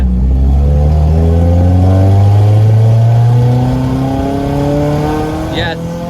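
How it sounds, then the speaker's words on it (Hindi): Honda H22 engine revving hard in second gear, pitch climbing steadily through the VTEC crossover with strong harmonics, loud and close throughout, rising then easing slightly near the end, with no talk over it. "ये दूसरे गियर में वीटेक के क्रॉसओवर चेक करते हैं।"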